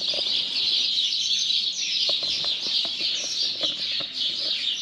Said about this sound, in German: die sind ja schwer wieder unterwegs, die Spatzen, die machen da Action